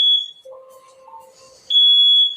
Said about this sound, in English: Okay, that's just a smoke alarm.